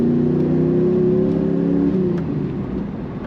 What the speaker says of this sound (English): Great sound coming out of this car.